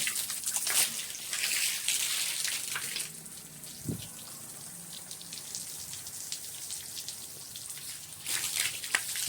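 Water poured at home during a power cut with low voltage, a broad hissing splash rising and falling throughout, louder near the start and end, with a brief low knock midway.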